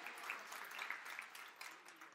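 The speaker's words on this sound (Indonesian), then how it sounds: "Tepuk tangan yang paling meriah." A church congregation applauds during a Sunday Easter-season sermon, a soft, steady wash of many hands clapping, fairly distant and quiet throughout, with no clear speech over it.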